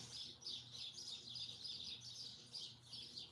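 Small birds chirp and squabble repeatedly in quick, high bursts at a distance in a yard, a busy overlapping twittering with faint low hum beneath.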